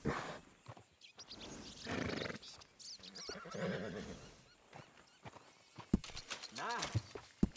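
Horse in the Red Dead Redemption video game, whinnying loudly and clip-clopping, mixed with in-game character speech and other game sounds close up.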